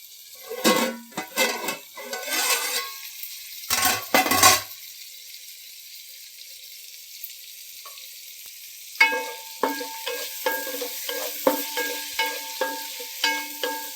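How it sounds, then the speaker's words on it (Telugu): Vegetable pieces frying in a pan while a tamarind dal soup is cooked Andhra style: bursts of sizzling and stirring, a quiet pause, then a run of rhythmic spoon scrapes and clinks against the pan. "ఇప్పుడు ముక్కలు వేగినేమో చూద్దామండి."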